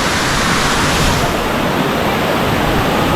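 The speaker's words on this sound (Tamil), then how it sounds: "தண்ணி எப்படி ஓடுது பாருங்கள்" Masila waterfall in the Kolli Hills pours steadily, a loud, dense, unbroken rush of falling water heard up close that fills the whole stretch.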